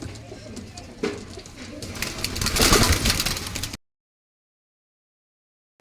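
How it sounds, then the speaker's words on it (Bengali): Pet pigeons coo repeatedly at close range in a home loft, the soft throaty calls building and then stopping abruptly. "এই পায়রাটা দেখুন, চোখটা দেখুন শুধু।"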